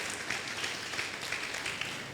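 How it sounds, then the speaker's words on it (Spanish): Audience applause at a pastors', leaders' and collaborators' conference, a steady, fairly soft wash of many hands clapping without a break, with no talking. "yo me animaría a darle un aplauso a la gente de multimedia"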